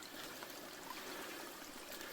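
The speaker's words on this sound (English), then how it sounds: "I'm standing in this little stream." A small creek in a little valley in the Oregon Coast Range flows with a steady, soft, even rush of trickling water, faint and continuous with no voices.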